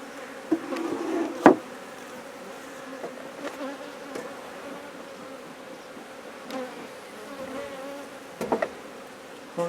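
Honey bees from a colony with a 2019 queen buzz steadily in a low drone, with a few louder close passes and knocks, no talking.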